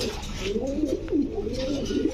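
Pigeons cooing up close, a soft continuous throaty warble with rising and falling pulses and no other sounds.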